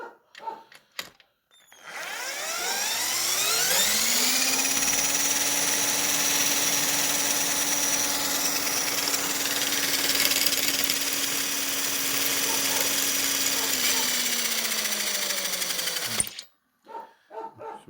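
A cordless screwdriver spins a small motor at roughly 650 rpm, ramping up to a loud, steady whining drone with buzzing harmonics that holds for over ten seconds before winding down and stopping.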